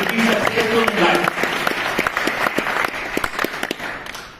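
An audience at a Dubai summit applauds, with many hands clapping in a loud crowd burst that gradually thins and fades toward the end, with voices over the start.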